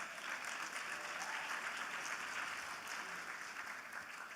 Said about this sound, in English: I think we should give them a round of applause because they are the 10 finalists.